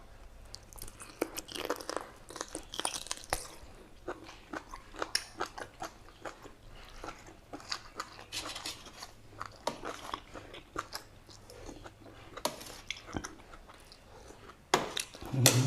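Close, crunchy chewing and biting of boiled pork leg cooked with chamuang leaves: repeated wet crunches and smacks in an uneven rhythm, loud and near, continuing for many seconds.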